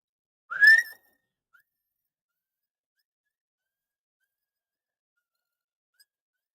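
A person gives one short whistled note that rises quickly, heard clearly up close. Near silence follows for the rest of the clip.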